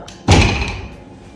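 A door is opened and shut at the start of a long road trip, with one loud, close thud followed by a short ringing decay and a faint rattle.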